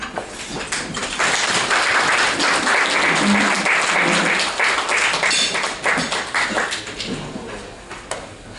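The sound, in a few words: loud applause welcoming the speaker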